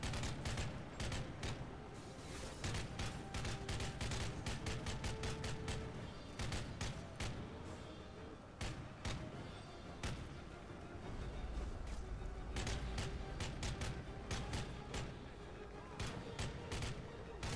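Near-constant gunfire from the video game Modern Warfare 3, with rapid repeated shots and heavier booming blasts running loudly throughout the stretch.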